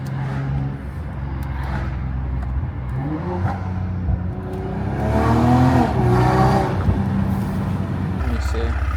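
A modified, louder BMW 540i engine revs up and settles back, with rising and falling pitch over a steady idle; a voice speaks briefly near the middle.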